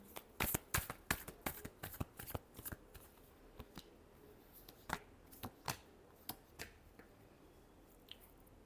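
Tarot cards being shuffled by hand, a dense run of sharp riffling snaps and flicks at first, thinning to scattered clicks later, fairly close and quiet with no talking.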